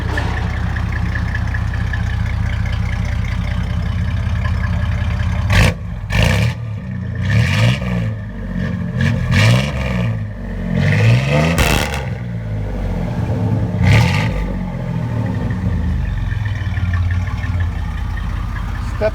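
A 1995 GMC Sierra 1500 pickup with a 5.0L V8 and Flowmaster Super 10 dual exhaust idles loudly, then revs in several quick, throaty blips before settling back to a rumbling idle.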